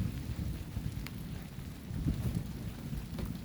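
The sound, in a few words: rain starting during a thunderstorm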